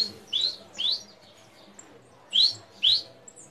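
Small pet bird giving short bright chirps in two pairs, close by, over faint low background noise as it flies in when called.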